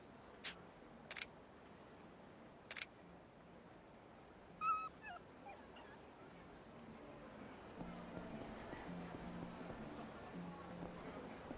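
A puppy in Yakuza Kiwami gives a few short, faint whimpers and yips early on, then a soft steady game ambience follows with no talk.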